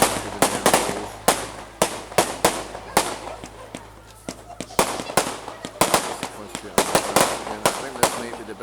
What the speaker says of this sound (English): these are impressive, these fireworks now. There's a lot of them going on